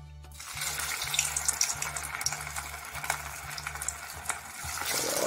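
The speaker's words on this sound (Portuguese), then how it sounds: "Agora vamos fritar." Stuffed kibe frying in very hot oil produce a dense, close sizzle with scattered crackles, over a low rhythmic humming pulse underneath.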